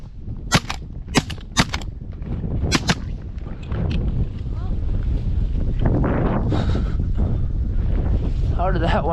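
Shotguns fire at Canada geese during a hunt: four sharp, loud blasts in quick succession, then steady wind rumble against the microphone with faint voices.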